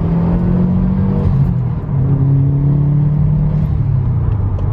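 A 2011 Subaru WRX accelerating hard on a racetrack, a loud close-up engine drone rising in pitch through the gears with a brief dip at a shift, rumbling steadily throughout.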